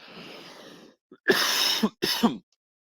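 A rough cough sounds close by, a sustained hacking burst and then a shorter one, following a brief stretch of quiet background.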